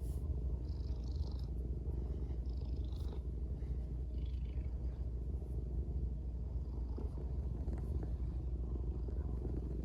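A pet cat held by the scruff of the neck purrs in a soft, continuous low rumble, faint and close, with no talking over it.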